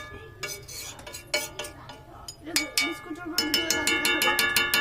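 A metal wok of cooking meat is struck and scraped repeatedly, sharp ringing clangs coming faster toward the end, with a voice speaking among them.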